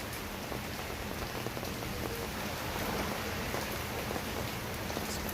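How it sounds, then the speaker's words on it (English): Steady, dense rain falls nearby on a tropical morning in Saint Thomas, US Virgin Islands, a constant even hiss of drops with no talk or thunder. "So you guys taking a nap to this rain action here?"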